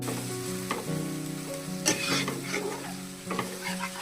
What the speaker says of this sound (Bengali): মাংসটা পুরোটা দিয়ে দেবো মশলাটার মধ্যে, দিয়ে ভালো করে নাড়াতে হবে।